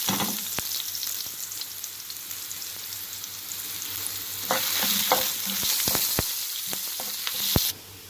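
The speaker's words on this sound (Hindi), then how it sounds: "इसके साथ ही हम स्लाइसिस में कटे हुए अदरक ऐड कर देंगे, अच्छी तरह से ब्राउन कर लें।" Sliced ginger sizzles in a few spoons of hot oil in a pan for beef nihari, with a steady close hiss broken by crisp spatula clicks and scrapes while stirring. The frying gets louder toward the end.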